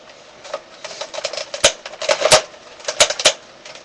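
Plastic Transformers Brave Maximus toy parts snapping and clicking as the legs are folded round, a run of sharp, close clicks with several louder snaps, no voice.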